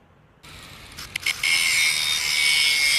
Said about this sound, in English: Use the grinder to cut the columns as drawn.